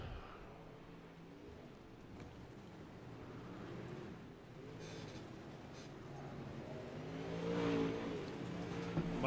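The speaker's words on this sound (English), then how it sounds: "Cody Olsen in that 6 car" UMP modified race cars circle a dirt track at Fairbury, engines droning and revving at a distance, quiet but swelling slightly toward the end.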